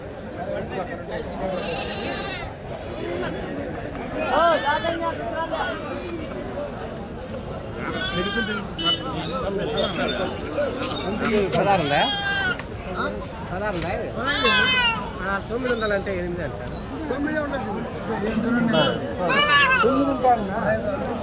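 Goats and sheep bleating repeatedly at a busy livestock market in Kadiri ahead of Bakrid, overlapping calls from many animals mixed with steady crowd chatter and people talking nearby.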